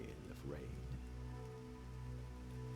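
Steady rain falls in a fantasy video game scene outside an arcane university, a soft continuous patter heard faintly under low game music and a voice speaking over it.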